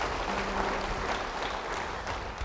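Steady applause from a church congregation, a dense wash of clapping that holds at an even level throughout with no voices standing out.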